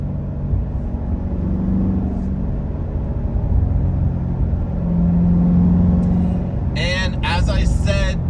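Chevrolet Corvette C7 Z51 with LT1 V8 cruising on the Foothills Parkway, a steady low engine drone and road rumble that swells slightly midway, with a voice talking near the end.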